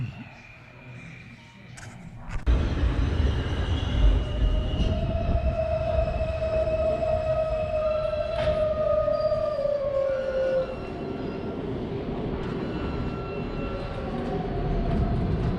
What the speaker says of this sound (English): we go down to the F train